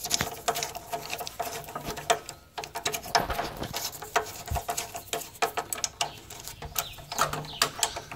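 Bolt being tightened on the guard linkage of a Dewalt DW708 12-inch miter saw, heard as a steady run of close ratcheting clicks and small metallic rattles and ticks throughout.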